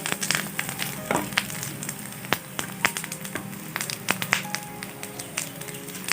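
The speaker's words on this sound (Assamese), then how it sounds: "মাছখিনি ফ্ৰাই কৰা হৈ গ'ল, এই ধৰণে অকণমান ৰঙচুৱা হোৱালৈকে ফ্ৰাই কৰি লৈছোঁ।" Pieces of goroi fish fry in hot oil, giving a steady close sizzle sprinkled with sharp pops and crackles throughout, with no talking.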